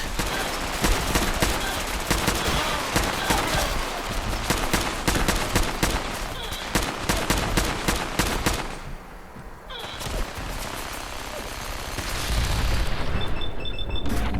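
Rapid gunfire from the Fallout 4 video game during a settlement ambush, with dense repeated shots and booms nearly filling the stretch, a brief lull near the middle, then loud firing resuming toward the end.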